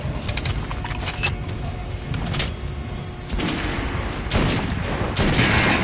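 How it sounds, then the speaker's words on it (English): Gunfire aimed at an armored training dummy in the video game Metro Redux, with loud repeated bursts of shots, sharp metallic clanks and booms layered over constant noise, with no speech. "Now shoot the armored dummy."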